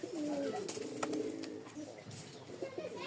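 Rajshahi Giribaz pigeons cooing in a loft, soft repeated low calls from several birds close by, with a few sharp clicks and rustles.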